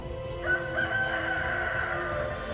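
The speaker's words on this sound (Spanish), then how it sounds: "En ese instante cantó un gallo." A rooster crows once in a long, drawn-out call lasting well over a second, heard clearly against a steady background.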